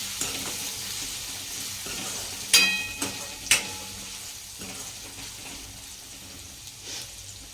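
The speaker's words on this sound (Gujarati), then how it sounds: "હવે આપણે કટ કરેલા ગાજર નાખીશું જાયફળનો તેલમાં ઘડીક આ રીતના આપણે ચડવા દઈશું" Chopped carrots frying in nutmeg-seasoned oil in a pan for a Gujarati carrot and green onion dish, giving a steady soft sizzle with a few sharp stirring clicks of a spoon against the pan, no talking.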